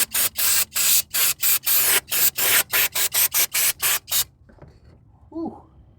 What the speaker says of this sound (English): I'm going to clean off some of this oil residue here.